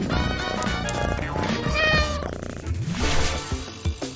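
A pet cat meows loudly and repeatedly at close range, with drawn-out, wavering cries filling the whole moment over a busy background.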